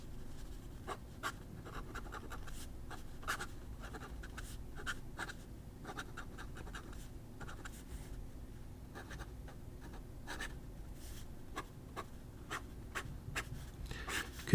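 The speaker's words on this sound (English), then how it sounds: "Could hear the scribing sound." A very sharp extra-fine steel nib on a Hongdian fountain pen scratches steadily across paper, a close, quiet run of small rasping strokes and ticks that carries on without pause and without any talk.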